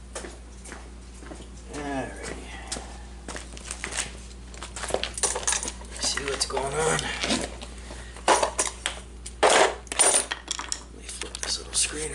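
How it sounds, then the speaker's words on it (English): Metal tools and parts clink and clatter in irregular bursts during removal of the carburetor from a Troy-Bilt lawn mower, close by, with someone talking at intervals. "Let's see about taking this carburetor off."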